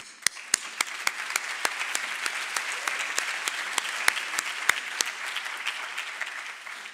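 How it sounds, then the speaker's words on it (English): Steady audience applause welcoming the speakers at a debate, a dense patter of many hands with a few sharp nearby claps, sustained at even level throughout. "Please join me in a round of applause to welcome our speakers."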